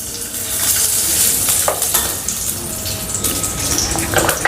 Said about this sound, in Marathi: रवा भाजून झालेला आहे आता आपण बेसन भाजू त्यासाठी मी साजूक तूप घेते